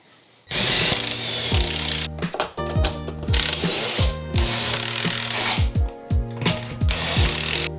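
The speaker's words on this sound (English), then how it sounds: "So this is where the pocket holes are going." A drill bores pocket holes in wood with a Kreg pocket hole jig for a kitchen hutch. Loud whining bursts repeat with short pauses and changing pitch, heard up close with no talking.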